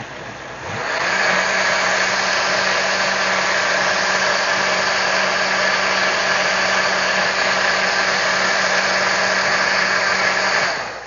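A blender runs steadily, liquefying Carolina Reaper hot sauce, a loud continuous whir that starts abruptly and holds even for about ten seconds before cutting off.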